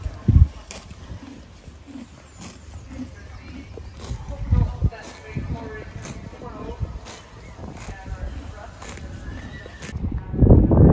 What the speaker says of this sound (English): Oh, there's a horse kicking off above.